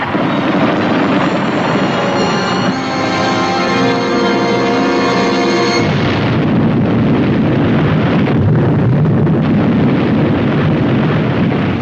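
A massive, continuous roar that fills the air, rumbling and wind-like throughout, with a shift in tone partway through.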